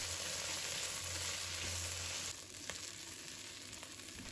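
Star anise, bay leaves and dried chilies stir-fried in a wok give a steady, fairly quiet sizzle with a constant hiss that thins out partway through, broken by a few light scrapes.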